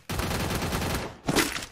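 Rapid bursts of gunfire in the battle royale game Free Fire, a dense stream of close shots for about a second, a short gap, then another quick volley.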